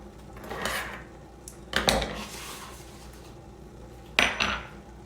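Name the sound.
moving an Instant Pot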